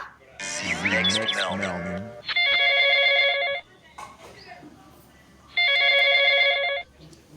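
A telephone rings in two long electronic bursts separated by a pause, following a stretch of emotional vocal sound at the start.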